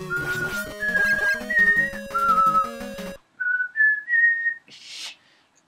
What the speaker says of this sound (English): I can't whistle Celis' theme.